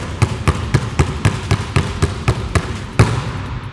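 A basketball is dribbled low, below knee height, in a training drill, about a dozen quick even bounces echoing close on a hard court floor.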